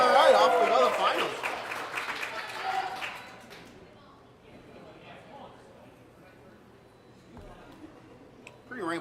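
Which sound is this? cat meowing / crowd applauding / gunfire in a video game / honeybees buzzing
crowd applauding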